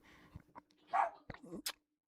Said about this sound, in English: stop with all that barking.